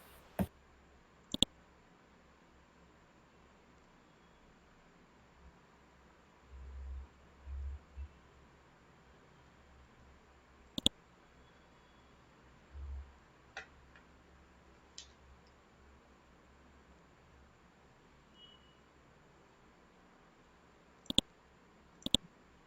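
Sparse computer mouse clicks, single sharp ticks spread across a quiet room with long silent gaps and a few soft low bumps between.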